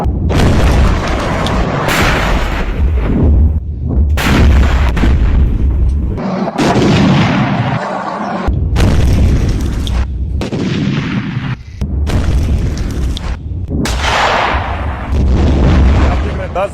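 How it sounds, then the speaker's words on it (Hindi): Artillery and gunfire on the Line of Control between India and Pakistan make a series of loud, heavy booms and bursts that come in quick succession and keep going, close and harsh. "पाकिस्तान फायरिंग कर रहा है लगातार एलओसी पर"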